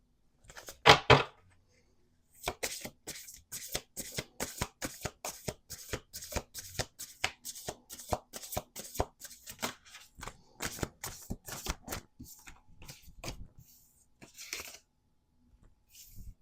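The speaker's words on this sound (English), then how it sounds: "Let's do 2 more shuffles." Cards being shuffled up close: a brief riffle, then a long run of rapid, crisp flicking clicks, slowing and trailing off near the end, no voices.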